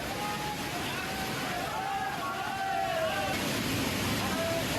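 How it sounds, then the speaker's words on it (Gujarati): Floodwater from heavy rain rushing into the Jatashankar Dham temple in Chhatarpur, a continuous broad roar of flowing water with a crowd's chanting voices audible over it. "બીજી બાજુ પાણીનો અવાજ"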